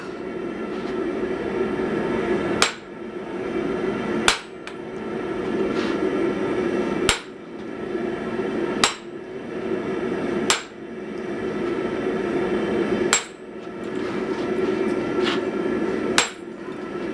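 A hammer forging and welding steel into an anvil block, striking about nine sharp, ringing blows at uneven intervals of roughly one to two seconds over a steady roaring background.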